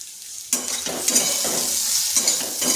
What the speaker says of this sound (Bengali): ঢেঁড়সটা এইভাবে ভেজে নিয়েছি, মানে হালকা একটু ভেজে নিয়েছি।